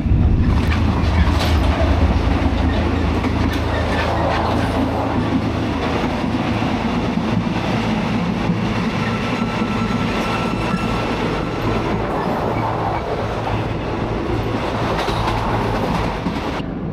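Loud, continuous rumble of a train rolling along the tracks, with rattling and faint clacking from inside the carriage.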